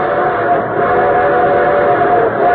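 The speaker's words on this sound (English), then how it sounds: "And here comes our star-studded show train." A train in the opening of a 1952 railroad radio show: a steady loud rumble with a sustained whistle-like tone running through it for a few seconds, no voices.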